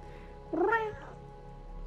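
A single clear, close meow from the cat in the video game Stray, rising and falling over about half a second against a quiet background hum.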